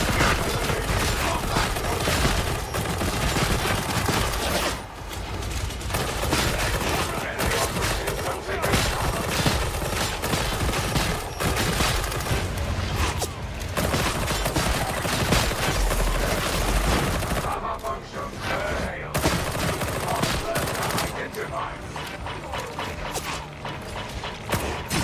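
Galvanic rifle fire in the Skitarii video game, dense loud crackling bursts of gunfire layered with mechanical clanks and ratcheting, continuous over about twenty-five seconds with brief lulls.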